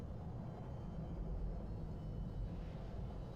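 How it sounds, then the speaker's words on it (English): A camera drone in a video game hovers close by, giving a steady low droning rumble with a faint whir that holds at an even level throughout, with no talking. "Camera drone, you might want to move out of the way."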